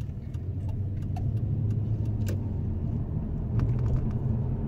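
A Nissan Cedric car driving, with a steady low engine rumble and road noise running continuously throughout, fairly close and even in level, with occasional faint ticks above it.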